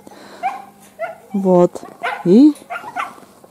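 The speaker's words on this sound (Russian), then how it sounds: "у нас там слышно собачка" A dog barks and yelps outdoors at a village house in snowy winter weather, several sharp, fairly loud barks mixed with whimpers while people talk nearby in Russian.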